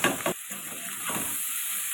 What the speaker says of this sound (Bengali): রসুন আমার লাল লাল করে ভাজা হয়ে গেছে, বেশি পোড়ানোর দরকার নেই।